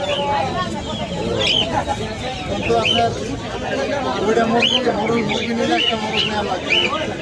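Chickens and other birds cluck and chirp at a busy bird market, their calls mixed into crowd babble and nearby people talking throughout.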